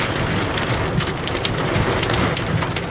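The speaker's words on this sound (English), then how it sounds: "you can hear the hail as it hit the windshield of that car" Dense, loud rattling patter of hail striking a car windshield, steady and unbroken, with a heavy thunderstorm roar underneath.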